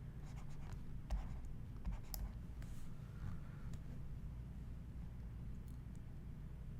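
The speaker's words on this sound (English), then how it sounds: "I'll just write it in red" A pen writing in red ink makes faint, intermittent scratching strokes over a low, steady background hum, with no talk.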